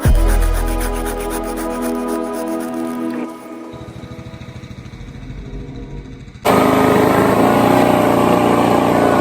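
Chainsaw cutting outdoors while a trophy-raid rally course is set up in Yakutia, a loud steady two-stroke drone that drops to a lower idle midway, then surges back to full revving cut near the end, with no talk.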